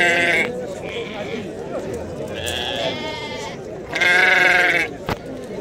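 Sheep and ewes bleat at the Thursday livestock market in Timahdite, Morocco, with several loud, nearby wavering calls, the longest near the end, while people talk throughout.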